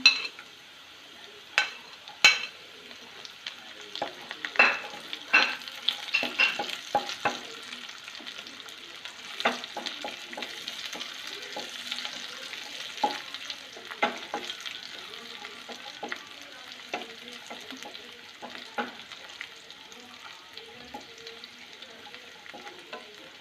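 Cashews and raisins frying in hot oil for biryani, a steady soft sizzle with frequent clicks and scrapes of a spoon stirring through the pan, close and continuous with no talk.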